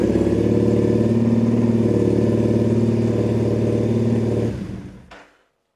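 A Triumph motorcycle with a weak battery at about 12.08 volts fires up and idles with a loud, steady, mid-pitched engine throb for several seconds, then cuts off and falls silent.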